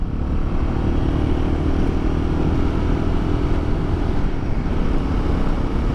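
Royal Enfield Guerrilla 450 motorcycle riding in fourth gear at 3,000 to 4,000 rpm, a constant loud engine drone mixed with rushing wind noise, steady throughout with no talk.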